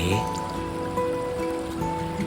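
Water in a stream at Khiri Wong village in Lan Saka, southern Thailand, flowing and splashing over rocks, a steady close rushing babble with no speech.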